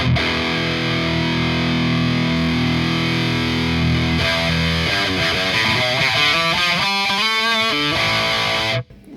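Heavily distorted metal guitar through an ENGL E860 rackhead, loud and saturated: a sustained chord rings first, then a run of fast palm-muted riffing and picked notes, ending abruptly in silence.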